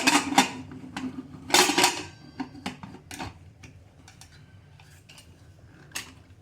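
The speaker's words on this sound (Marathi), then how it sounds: "आता कुकरचं झाकण लावून घेऊ" A pressure cooker lid is fitted in place while making kharvas, with sharp metallic clinks and clatters up close, a couple of louder bursts early on, then lighter scattered taps.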